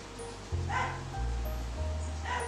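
Faint yips from a dog somewhere in the background, soft and distant beneath a low room hum and a steady drone.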